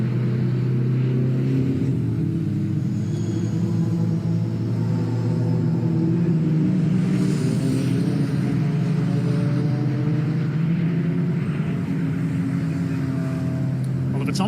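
Racing cars lapping the Oulton Park circuit during a BARC North West CNC Heads Championship race, including a VW Beetle and a Subaru, a steady loud engine rumble and drone throughout, heard from trackside.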